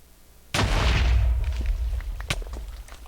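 A TNT block detonates in a blocky sandbox game, one sudden loud blast followed by a rumbling, crackling decay that fades over the next few seconds.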